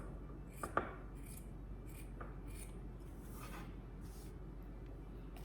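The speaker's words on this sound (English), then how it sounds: "We're gonna cut this in half. Nice good cut there." Scissors cut through fabric for a no-sew face mask, giving a few soft snips and rasping slices, faint and close in a quiet room.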